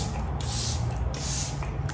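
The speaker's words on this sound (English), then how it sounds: "we're actually gonna be spraying the e.l.f. Dewy Coconut Setting Mist just before we start our makeup" Continuous fine hiss of a facial setting mist, e.l.f. Dewy Coconut Setting Mist, sprayed steadily at close range for about two seconds, with no pauses or speech.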